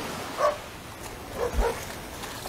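Dogs barking outdoors at daybreak between Batts Rock and Fitts Village: a few short barks at moderate distance in two brief bursts, with quiet ambient noise between them.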